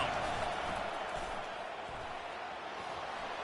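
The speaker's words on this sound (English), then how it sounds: "Decibels rising as the crowd gets behind this defense on third down." Stadium crowd in a college football video game, Miami versus Clemson, roaring steadily as noise builds for the defense on third down; a dense, continuous wash of cheering holds at even loudness throughout, with no clear talk standing out.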